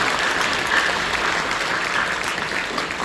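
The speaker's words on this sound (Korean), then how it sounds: "박수를 격려해 주시죠." A church congregation applauds during a Korean worship service, a steady, dense wash of many hands clapping together with no voices over it.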